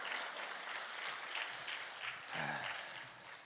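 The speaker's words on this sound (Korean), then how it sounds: "오늘 하나님께 영광의 박수 올려드립시다" A church congregation at Oksu Central Church in Geumho-dong, Seoul, claps together in steady, dense applause that swells briefly near the end and then tapers, with no voices over it.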